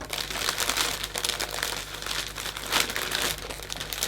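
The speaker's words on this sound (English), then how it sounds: "This allows me then to take the cellophane up" Cellophane crinkles and rustles continuously, close and fairly quiet, as it is gathered up around the stems of a Christmas hand-tied bouquet, with uneven crackling bursts throughout and no speech.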